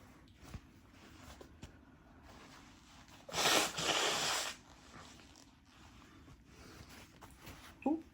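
A single loud, breathy nose blow lasts about a second amid quiet room noise, with a few soft rustles around it.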